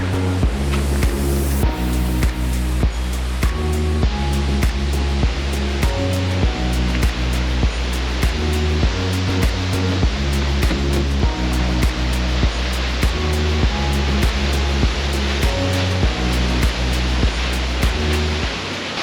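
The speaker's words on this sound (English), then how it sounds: "This waterfall behind me is called El Roquio Machai." El Roquio Machai waterfall near Banos, Ecuador, roars as a continuous dense rush of falling water, loud and steady throughout with no voices, overlaid by a rhythmic low pulsing pattern.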